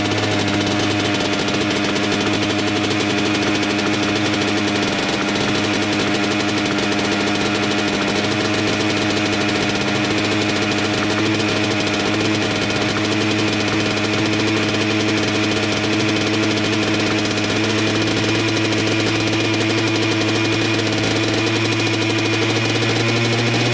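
A Yamaha Blaster ATV engine runs steadily and loudly after a kick start, a rough, knocking idle with a constant low drone and no talking throughout.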